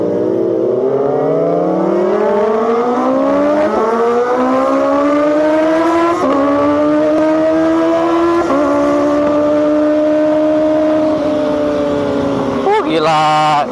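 Three Kawasaki ZX25RR motorcycles rev and ride together, their high-pitched engines rising and falling in long sweeping pitch glides, loud and close, with wind noise throughout.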